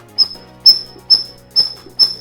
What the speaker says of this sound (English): he blows his whistle